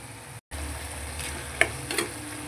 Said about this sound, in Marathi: आता याला थोडं शिजवून देऊया आपण. आता आपण याच्यात टोमॅटो टाकूया बारीक चिरून घेतलेला.